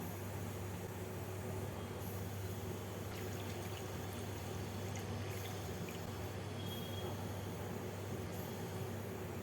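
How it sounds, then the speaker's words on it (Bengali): Warm water pours over salted paneer pieces in a faint, steady trickle that runs unbroken for several seconds. "এবার এই পনিরের মধ্যে অল্প নুন আর উষ্ণ গরম জল দিয়ে পাঁচ মিনিট ভিজিয়ে রেখে দেবো"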